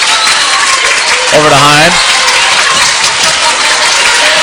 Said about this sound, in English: Fans sticking with the clapping here.